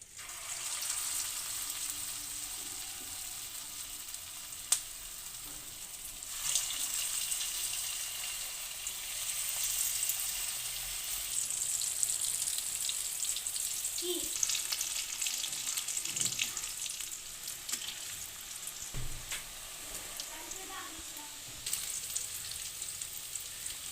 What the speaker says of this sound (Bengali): এদিকে কড়াই বসিয়ে তেল দিয়ে দিয়েছি তেল গরম হয়ে গেছে এবার আমি একে একে এগুলো দিয়ে দেবো